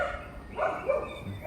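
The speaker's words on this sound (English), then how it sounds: "Surrounded by mad dogs." Dogs barking outdoors, a few short, fairly faint barks and yaps in quick succession, somewhat distant.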